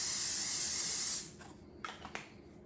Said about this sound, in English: First thing we're going to do is spray a casserole dish.